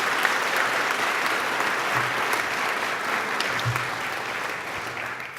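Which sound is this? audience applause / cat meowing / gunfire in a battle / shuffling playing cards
audience applause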